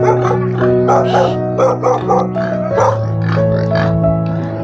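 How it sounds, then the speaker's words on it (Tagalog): A dog chasing someone in Lubao barks rapidly and repeatedly close by, a quick run of yappy barks over a steady background hum. "Hinahabol ako ng aso."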